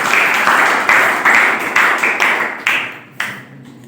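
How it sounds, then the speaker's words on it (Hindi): Applause at a village painting and essay competition event in Bhogpur, Haridwar, loud close clapping that comes in repeated surging bursts before fading out near the end. "इन आपके लिए भी जोरदार तालियां।"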